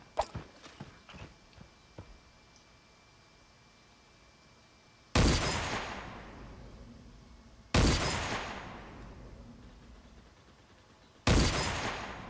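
Three loud gunshot blasts from the video game Creative Destruction, each a sharp crack with a long decaying tail, spaced a few seconds apart after some light tapping and footsteps.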